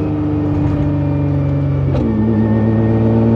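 A 1500 hp Nissan GT-R R35 accelerates hard, its engine note rising as a loud, close, steady roar, then dropping briefly at a gear change before climbing again.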